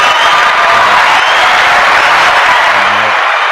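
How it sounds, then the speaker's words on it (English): Studio audience applauding and cheering after a call for a round of applause at a live talk show taping, a steady dense wash of clapping with a few whoops, loud and continuous throughout. "Can I get him a round of applause?"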